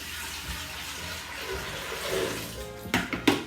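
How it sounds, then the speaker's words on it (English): Two quarts of water pour steadily into a pot with a soft rushing splash, ending in a few brief clunks and sloshes. "We're going to take 2 quarts of water. We're going to pour that in."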